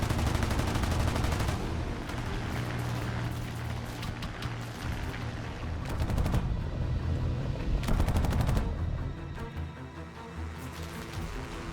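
Machine-gun fire from a Finnish Brewster Buffalo fighter chasing a Soviet I-16 low over the ground: a dense, rumbling din broken by two sharp, loud bursts of rapid shots near the middle and later in the clip.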